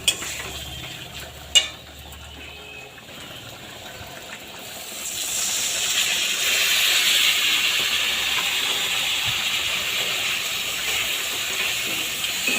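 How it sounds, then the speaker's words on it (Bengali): Water splashes into a hot pan of spiced vegetarian potato curry (aloo dum): a sharp clink and soft stirring at first, then a loud steamy hiss rises and holds as a steady close-up sizzle to the end. "এখন আমি সামান্য পরিমাণে একটু জল দিয়ে দেব।"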